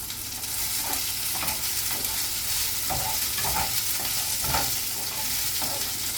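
Chana dal roasts in a pan with green and dried red chillies, giving a constant close sizzle broken by soft scraping stirs at irregular intervals.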